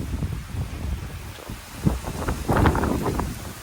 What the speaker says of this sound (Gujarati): પવનની બહુ છે.